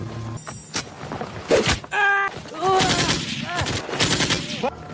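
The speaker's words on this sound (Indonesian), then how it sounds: "Suara ricuh membuat pasukan panik dan menembak secara membabi buta" Panicked troops fire wildly in a dramatic film scene, with bursts of machine-gun and rifle shots mixed with clanks, thuds and other scene noise at close range, all without any voices.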